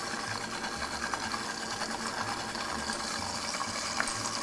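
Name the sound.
blender pureeing beets with olive oil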